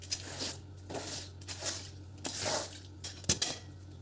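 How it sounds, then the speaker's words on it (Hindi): Dishes are washed by hand after a meal in a village kitchen, with scattered clinks and clatters of utensils and running water swishes in an uneven rhythm, moderately close and quiet, with no talk. "मैं खाना खाने के बाद बर्तन धुलने में लग गई थी"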